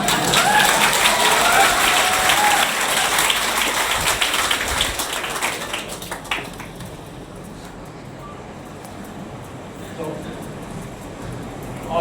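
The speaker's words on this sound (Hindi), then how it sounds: "ताली में कंजूसी मत करिए" An audience at an Engineers Day gathering in Bhopal claps loudly and steadily for several seconds, then the applause tapers off into quiet room noise.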